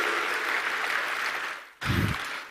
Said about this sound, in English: So please, let's give a big round of applause to Ministry of Culture.